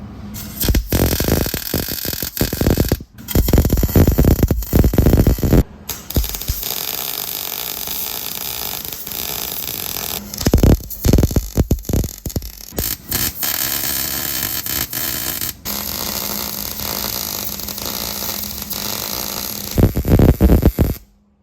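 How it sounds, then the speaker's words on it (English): Welding a cross member onto a Lexus IS300 drift car: harsh crackling, sputtering arc bursts in repeated runs separated by brief pauses, loud and close throughout. "All right, we welding this thing."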